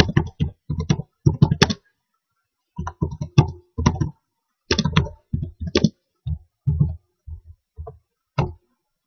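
Code being entered on a computer keyboard for a Small Basic programming lesson: quick bursts of crisp, close key clicks separated by short pauses, with no voices.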